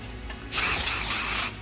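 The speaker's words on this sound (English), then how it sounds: "don't be afraid to add the dry shampoo on the hair, in the root area" A single one-second burst of dry shampoo hisses from an aerosol can onto the hair roots, close and loud against a quiet room.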